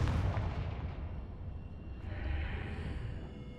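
Confringo fire spell blasting in Hogwarts Legacy, a loud rumbling boom with heavy low-end that sustains and swells again midway, no voices over it.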